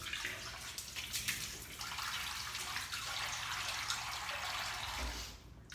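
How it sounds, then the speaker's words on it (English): Water splashes and trickles from a running tap onto the face at the sink during a wet shave, a continuous soft wash of spattering that cuts off near the end with a brief thump. "let's get a little bit more water on the face"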